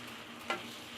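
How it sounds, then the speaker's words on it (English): Spinach being stirred into a cheesy shrimp pasta, one brief scrape of a utensil against the pan over a quiet, steady sizzle. "So we're going to stir that in there. It's going to start wilting, disintegrating, shrinking."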